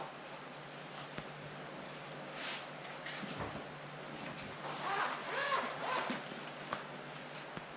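A zipper on a carry bag for a Bluetti power unit is pulled open in a few short quiet ripping runs, with faint handling and rustling nearby.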